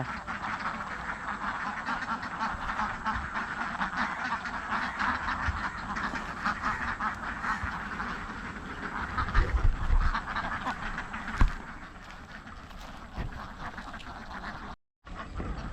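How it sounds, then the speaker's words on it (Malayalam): A large flock of farmed ducks, some sixteen hundred birds, quacks continuously in a dense, overlapping chorus near a duck keeper's enclosure in Karuvatta, with a louder burst partway through and a brief dropout near the end. "ആയിരത്തി അറുന്നൂറ് താറാവുണ്ട്"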